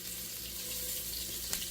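Mushrooms frying in olive oil with seasonings in a pan, a steady close sizzle running throughout with a brief sharper crackle near the end.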